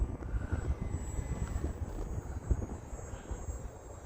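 A Hobbyzone Aeroscout RC airplane flies on windy day at reduced throttle, its small electric motor a soft, steady buzzing drone heard at a distance through gusty wind rumble on the microphone.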